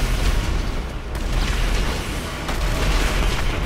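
A bazooka rocket blast rumbles through a game battle against insurgents: a loud, continuous low boom and roar of explosions filling the whole stretch with no pauses.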